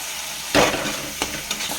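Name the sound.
stirring and frying fish curry spices in a pan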